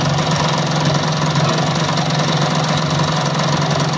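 A Kawasaki AR80 motorcycle engine idles continuously after repeated rebuilding work, a steady close two-stroke drone with a low throbbing pulse and no talking.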